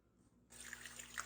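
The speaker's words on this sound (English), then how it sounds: "That's how much water we got coming out of the old hot water heater" A tap fed by an old hot water heater in a garage opens after half a second of quiet, then a thin steady trickle of water splashes close by with small irregular drips on top.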